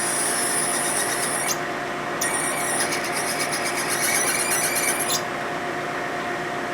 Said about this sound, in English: It's a pissed off reamer.